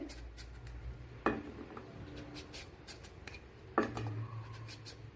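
A knife slices through a washed pumpkin with its skin still on, giving two separate, fairly quiet crunching cuts a few seconds apart over a low background hum.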